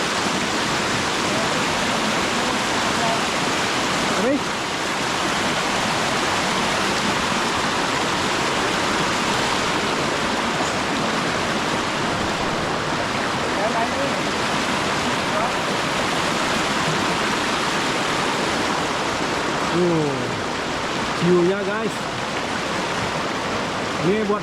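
A river rushes loudly past in Pandak Gede village, Tabanan, Bali, a dense, constant roar of water close by, with a few faint voices now and then beneath it.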